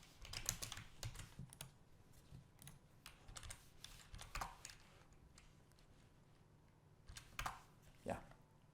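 Faint, irregular clicking from a computer keyboard comes in short bursts of keystrokes, and quiet speech can be heard in places.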